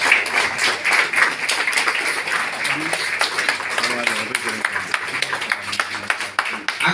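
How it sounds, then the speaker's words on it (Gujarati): An audience claps throughout a welcome at a product seminar in Diu, with dense, steady applause close by and a voice talking over it. "તાળીઓ ચાલુ રહેવી જોઈએ"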